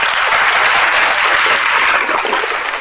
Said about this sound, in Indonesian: Tepuk tangan bagi Tuhan Yesus.